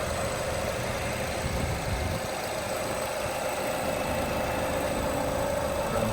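A 2016 Nissan Altima SL with about 100k miles idles steadily, its engine giving a smooth, even hum with no one speaking.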